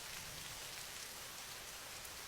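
Steady, dense rain falls and patters on surfaces outdoors, an even hiss with no let-up and no voices.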